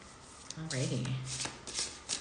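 Tarot cards shuffled for a reading, a quick riffling flutter of cards close by with a person speaking over it.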